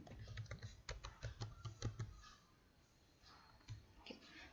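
Keys tapped on a computer keyboard while entering data in Tally Prime accounting software, a quick run of close, quiet clicks for about two seconds, a pause, then a few more keystrokes.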